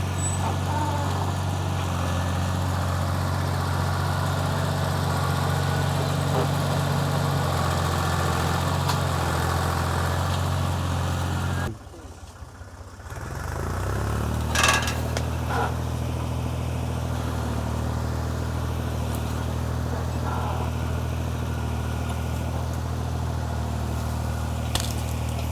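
A tractor engine idles steadily with a deep, even rumble while working a landscape rake, cutting out briefly partway through before resuming just as loud.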